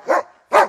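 A female police dog barks twice, close and loud, two short sharp barks about half a second apart with nothing else heard.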